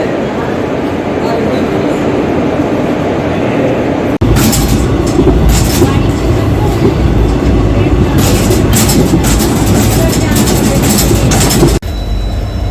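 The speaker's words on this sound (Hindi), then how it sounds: "यहाँ Chennai central Mumbai Chhatrapati Shivaji Maharaj terminus superfast express रात को करीब 12:45 को पहुंची है।" The Chennai Central–Mumbai CSMT superfast express at Wadi Junction at night, a loud, close, continuous rumble of rail cars rolling past with rhythmic clatter, with voices faintly audible underneath.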